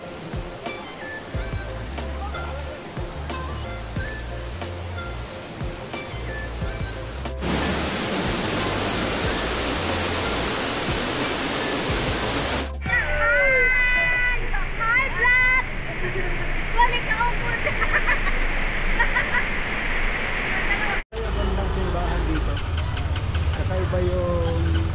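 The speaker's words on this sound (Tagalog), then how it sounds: "tunog ng waterfalls o agos ng tubig" Busay Falls pours as a steady, loud rush of flowing water near Burawin, Leyte, a continuous hiss that shifts as the position changes, with a person talking over it partway through.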